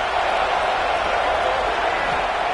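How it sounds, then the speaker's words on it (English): A college football stadium crowd between the Tigers and the Noles roars in a steady, dense wash of cheering that neither rises nor fades over a couple of seconds. "This crowd knows when to bring it."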